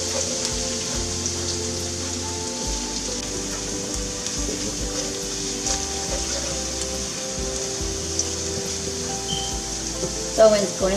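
Pot of water boiling on a stove, a continuous close bubbling and hissing patter that runs throughout, with a brief clatter near the end.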